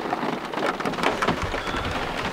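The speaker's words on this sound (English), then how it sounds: "And then it starts raining." Steady rain falls outdoors, a dense continuous hiss of drops pattering on surfaces, close and moderately loud with no voices.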